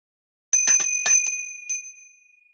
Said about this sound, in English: I'm going to ring the bell